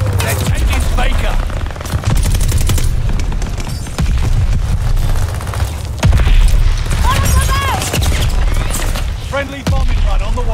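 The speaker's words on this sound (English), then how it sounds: "Allies calling a mortar barrage." Mortar barrage explosions on the Das Haus Domination map of Call of Duty Vanguard: heavy booms land repeatedly through the clip over dense gunfire, loud and close, with voices calling out now and then.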